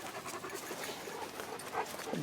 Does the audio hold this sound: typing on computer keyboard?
no